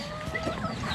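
Chickens cluck softly in a village setting, with short calls blending into outdoor background noise.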